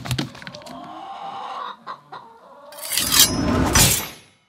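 A chicken clucks in a quick burst of close calls, then goes quieter, before a louder, harsher squawking outburst near the end.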